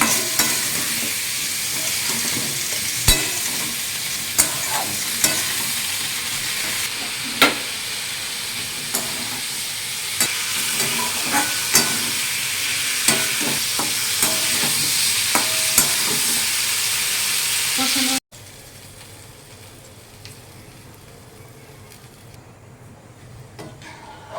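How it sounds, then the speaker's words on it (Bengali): Spices for a thin rui fish curry fry and get stirred in a pan, a loud continuous sizzle with frequent sharp spatula taps and scrapes, then a sudden drop to a much quieter simmer for the final few seconds. "মশলাগুলোকে ভালোভাবে কষে নেবো"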